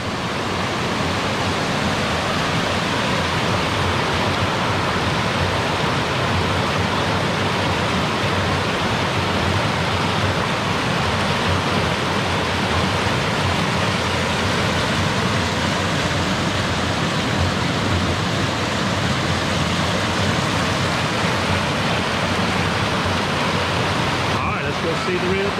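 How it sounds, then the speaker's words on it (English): River water rushing steadily near the Minnehaha Falls trail, a dense, continuous broadband wash that stays constant and fairly loud throughout, with no voices over it. "there's a little bit of water in the river"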